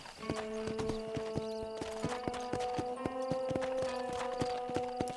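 A horse's hooves clip-clop in a steady trotting rhythm in the Red Dead Redemption video game, clear and close, layered over tonal game music, with no speech.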